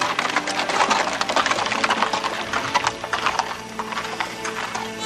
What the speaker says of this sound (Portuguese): Vai passear com o cavalo dela